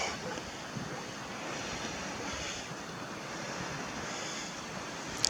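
Surf washing ashore at Chelsea Beach on Port Phillip Bay, Melbourne, a steady broadband rush of waves with wind buffeting the microphone throughout, no voices.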